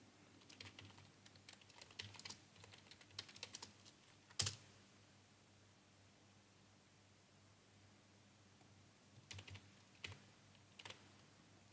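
Quiet computer keyboard typing while entering text in Python, in bursts of soft close key clicks with a sharper tap near the middle and a pause before a final flurry.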